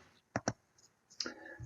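Computer mouse clicks while working in Photoshop: two quick sharp clicks close together, then a fainter pair and a softer click moments later, quiet and close with no speech.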